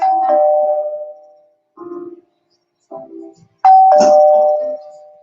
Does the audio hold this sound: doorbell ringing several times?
yes